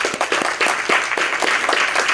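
Steady applause from a large crowd, dense clapping that stays loud and even throughout.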